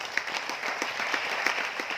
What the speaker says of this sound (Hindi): कितने लोग चाहते हैं लाइफ टाइम स्वस्थ रहें सर? ताली बजाएं।